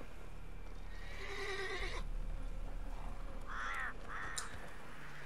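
A horse in the video game The Witcher 3 gives a clear whinnying neigh in two short bursts near the end, faint against a quiet background with soft hoof clops earlier.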